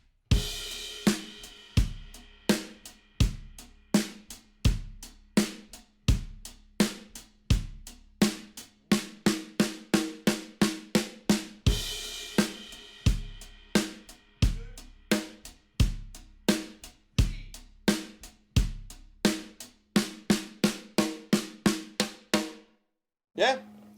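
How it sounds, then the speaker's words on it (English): A drum groove of steady kick, snare and cymbal hits for several bars, each phrase ending in a rapid run of even snare strokes, played alone. "just 3 bars of a groove, and then 1 bar of that 8th note fill on the snare"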